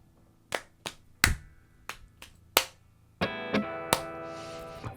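Clap rock rhythm struck by hand, a sequence of sharp, separate claps in a loose pattern, followed by a brighter ringing tone with more hits near the end.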